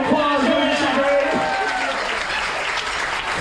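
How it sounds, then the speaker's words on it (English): Audience applause from a cruise ship percussion show crowd after a volunteer's drumming, a dense clapping wash heard close and steady, with voices and cheers mixed in near the start. "Give Lori a big round of applause."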